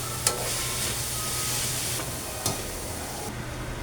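A utensil stirs arroz ala cubana mixture in a hot pan, steady sizzling and frying hiss with a couple of sharp scraping clinks of the spoon against the pan, close and continuous.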